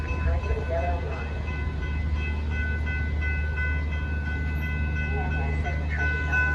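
A commuter train, number 1211, pulls into Downers Grove station with a loud, steady rumble and sustained tonal squeals. A voice sounds faintly in the background.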